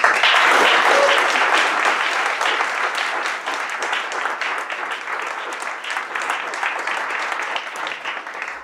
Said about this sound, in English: round of applause, and Andreas Antonopoulos